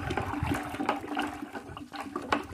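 Liquid product stirred in a container while preparing to plant gladiolus, giving a continuous wet sloshing and swirling with irregular splashy surges over about two and a half seconds, fairly close and steady.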